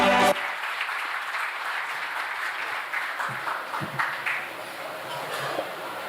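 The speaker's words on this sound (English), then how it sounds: "Let us, with a big round of applause, welcome Goto-san for the keynote address." An audience applauds to welcome a keynote speaker at an inaugural ceremony, a steady wash of clapping that runs through the whole stretch after a brief opening sound.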